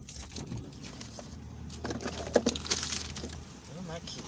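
Keys jangle in short metallic rattles during an early-morning commute, heard among faint road and vehicle noise.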